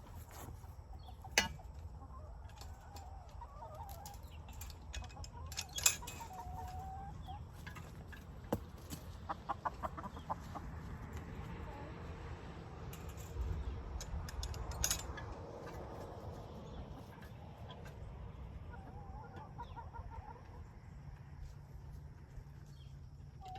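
Hens cluck softly and intermittently inside a backyard chicken coop, faint and close, with scattered rustles and small knocks.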